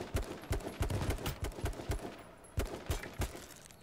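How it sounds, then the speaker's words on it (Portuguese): Gunfire in the battle royale game H1Z1, a run of sharp single shots fired in a rough rhythm about every third of a second, fairly close, with short pauses and no talk over it. "Vou dar tiro nele"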